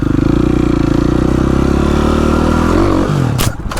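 A motorcycle engine revs hard and continuously up close, a loud throbbing roar that drops off near the end as a rider attempts a wheelie, with some clattering at the finish.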